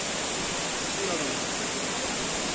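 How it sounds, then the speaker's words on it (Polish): A small waterfall in Kursunlu, Turkey, pours into a blue lake, giving a steady, even rush of water heard from nearby with no other sounds standing out. "I tutaj widzimy mały jakiś wodospadzik."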